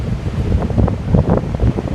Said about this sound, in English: I can't believe the sound of the wind and the waves. They must be really high crashing in.